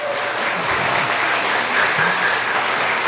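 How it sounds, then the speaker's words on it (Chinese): A church congregation at a Sunday service applauds to thank a visiting band, a dense steady wash of clapping held at even strength throughout, with no voices over it. "我们再次拍手来谢谢他们"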